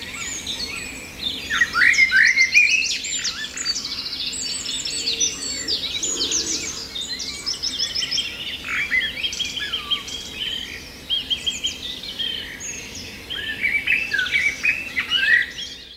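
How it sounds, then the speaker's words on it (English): Birds calling at a boating facility where scarlet ibis gather: a dense, steady chorus of overlapping chirps, whistles and trills, fairly close and lively, with no talking. "Birds such as the scarlet IBIS can be seen in all their glory, hovering around and enjoying an afternoon stroll."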